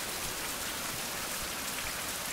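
Steady rain pours in a survival video game with a sailing and fishing setting, a dense, even hiss of falling drops with no talk over it.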